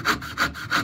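A vintage dovetail saw cuts through wood in three quick, evenly spaced rasping strokes, close and crisp, with no voices.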